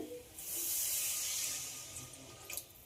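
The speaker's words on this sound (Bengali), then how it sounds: "এবার এতে দিয়ে দেব জল" Water pours steadily into a pan of spiced potato curry being cooked with bottle gourd and chana dal, a soft rushing hiss that swells, holds for a couple of seconds and tapers off with a few splashes.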